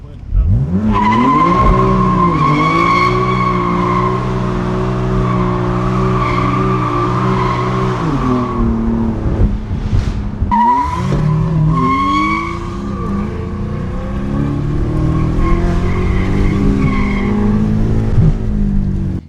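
A BMW M4 convertible drifts on worn, balding tires at a BMW M event in Europe, a loud sustained engine roar with long squealing tire skids that dip briefly mid-run, then resume.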